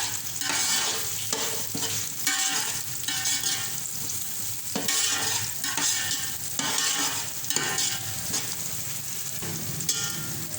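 Garlic, cumin seeds and black peppercorns fry in hot oil for bhindi masala, with a steady close sizzle broken by repeated bursts of stirring and scraping in the pan, no voices.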